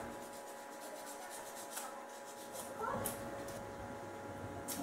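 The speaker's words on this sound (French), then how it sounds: "Je vais limer encore un peu" A false nail is filed down with a nail file during an at-home nail session, giving a soft, steady rasping rub that runs through the clip at low level, with a slightly stronger stroke near the middle.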